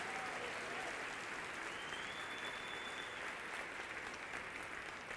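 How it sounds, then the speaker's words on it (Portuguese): A church congregation claps together in a sustained, even roar of applause filling the hall, steady from start to finish with no break. "Se é para aplaudir, aplauda glorificando a Deus."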